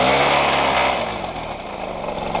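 A warmed-up Piaggio Ciao PX moped engine runs steadily nearby in below-freezing temperatures, a buzzing mechanical drone that eases slightly in pitch and loudness partway through.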